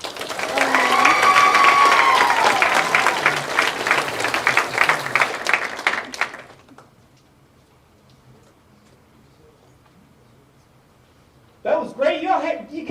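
Audience applause for a performer at a university speech showcase, loud and sustained for about six seconds, then fading into near silence before voices return.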